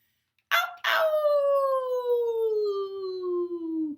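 A person imitates dogs howling at the moon, giving two short yelps and then one long, loud, close howl that slides steadily downward in pitch.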